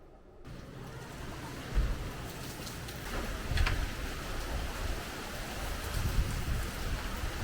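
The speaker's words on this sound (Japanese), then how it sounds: "今日は雨です。" Rain falls on a day in Taiwan as a steady, even hiss that stays constant throughout, with a few slightly louder patters and no voices.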